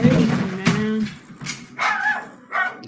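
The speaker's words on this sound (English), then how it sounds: "Dog barking and everything." Dog barking heard through a played phone or screen recording: several sharp barks and yips spaced irregularly across the moment, fairly loud and close, with a person talking over the start.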